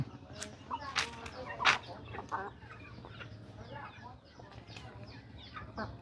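Chickens clucking at a rural Thai home, several short bright calls scattered over a few seconds at moderate distance, with a low steady background hum and some faint voices.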